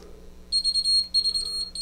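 A Keysight U1282A multimeter sounds its input alarm as a rapid, high, piercing electronic beep that repeats in short bursts over a low background hum.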